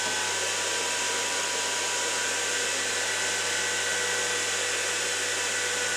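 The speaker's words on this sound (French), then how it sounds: "faut que je branche un ventilo parce que ça vient d'être refroidi" An electric fan hums steadily and closely at a constant level, a smooth whirring drone with no voices, running beside a recently cooled computer.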